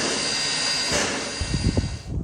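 A steam locomotive idles inside an engine house, giving off a steady broadband hiss with a constant high whine, then low rumbling chuffs and knocks toward the end, close and fairly loud.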